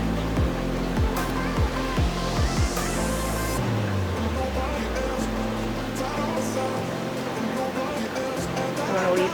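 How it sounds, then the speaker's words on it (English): Hot water scooped and poured into a canning jar packed with pumpkin, giving a steady, close sloshing and splashing that runs throughout over a low rumbling background. "we're going to scoop in the hot water"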